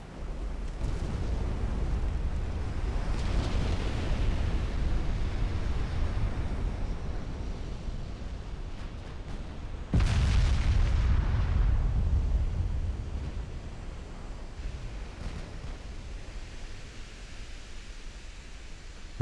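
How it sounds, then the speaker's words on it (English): Warships explode and catch flash fires in the naval battle game Ultimate Admiral Dreadnoughts: a long, steady roaring rumble, then a sudden heavier burst about halfway through that swells and gradually subsides, no talking. "That was Pierre-Henri being credited with those flash fires, not Davut."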